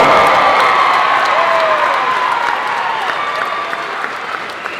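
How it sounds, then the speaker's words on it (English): Crowd applause and cheering for the Perham High School Yellowjackets, Section 8AA champions, at a championship game; loud, dense clapping with whoops from a big crowd, slowly easing over a few seconds. "how about a nice round of applause for the Section 8AA champion, the Yellowjackets of Perham High School"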